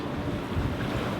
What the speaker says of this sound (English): Kind of choppy, windy